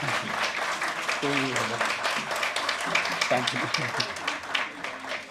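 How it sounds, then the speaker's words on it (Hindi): Audience applause at the Natsamrat Theatre Award ceremony, honouring Shantanu: steady, dense clapping from a large crowd that fills the whole stretch, with a voice briefly speaking over it partway through. "थोड़ा तालियां और बजाइए ना जोर से"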